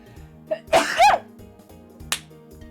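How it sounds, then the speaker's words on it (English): A person sneezes once, a quick breathy intake followed by a sharp, close burst, with soft background music playing throughout. "I'm gonna sneeze."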